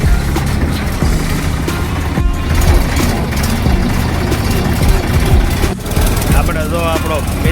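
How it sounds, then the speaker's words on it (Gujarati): A loud, close tractor engine runs with a steady low rumble throughout, and a voice talks briefly over the noise. "આપણે જો ટ્રેક્ટર લઈને ઉપડી ગયા છીએ"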